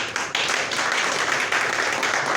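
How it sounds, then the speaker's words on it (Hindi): An audience at a Modicare sales meeting claps, a dense continuous burst of many hands applauding together, loud and sustained from start to finish. "आप एक बार तालियों से बता दीजिए"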